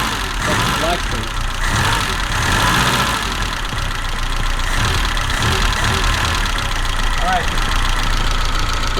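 A BMW 2002 engine idles steadily throughout during carburetor and timing setup, a continuous rough running drone with people talking over it nearby.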